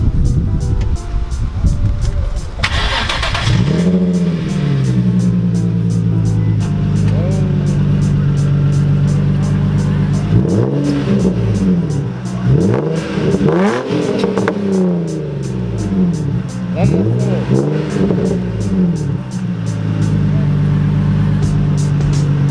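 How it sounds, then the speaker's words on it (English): An Infiniti G35 coupe's VQ engine with a muffler-delete exhaust revs hard several times, loud and open, rising and falling in sharp pulls close by, with a steady rumble between bursts. "pretty much we have a muffler delete on the VQ"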